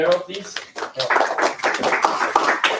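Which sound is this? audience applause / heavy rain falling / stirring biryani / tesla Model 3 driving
audience applause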